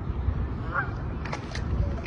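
A duck honks and quacks a few times in a noisy outdoor setting with steady low rumble, the calls fairly close and moderately loud.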